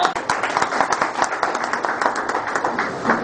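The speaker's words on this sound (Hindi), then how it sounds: "सब तालियां बजा लीजिए" Audience clapping together in a continuous, dense patter of close, loud hand claps that holds steady for several seconds without a break.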